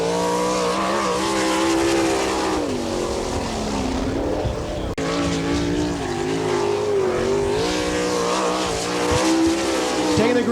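Sprint race cars at Attica speedway in Ohio during an All Star Circuit of Champions race, engines roaring loud and continuous with rising and falling pitch as the cars pass, under a faint announcer.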